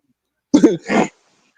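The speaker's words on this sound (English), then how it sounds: "You just made me laugh into a cough." Right after a laugh, a person coughs or clears their throat close by in two quick, rough bursts, then goes quiet, with no speech.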